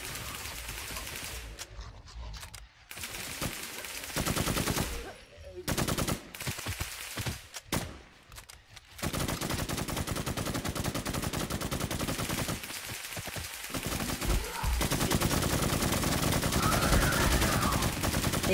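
Rapid gunfire in a shooting video game crackles in loud automatic bursts, broken by short pauses, then settling into sustained continuous fire toward the end, with a voice speaking faintly in places.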